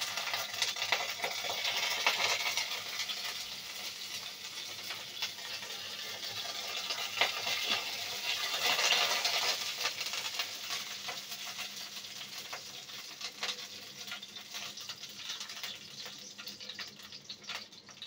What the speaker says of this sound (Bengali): ওই তেলে দিয়ে দেব 2টা শুকনো মরিচ